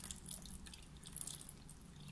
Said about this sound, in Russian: Прям в свободное место я буду проливать воду, наливать